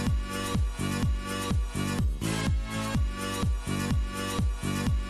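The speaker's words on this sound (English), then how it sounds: "every time the kick drum plays, we drop the volume of the samples" A music track with a sidechain limiter keyed to the kick drum. Each thumping kick ducks the samples, so the whole mix pulses and swells in a steady rhythm of about two beats per second.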